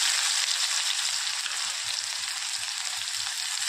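Cumin and mustard seeds frying in hot oil as onions go in, a steady close, bright sizzle that holds evenly throughout without pauses.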